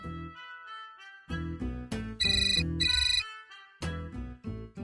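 An office telephone rings with an electronic melodic tone, several bursts of bright notes separated by short pauses, close and clear.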